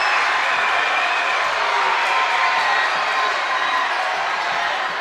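Dense, steady roar of a boys' high school basketball district crowd cheering and whooping after a dunk, loud and sustained throughout with no break.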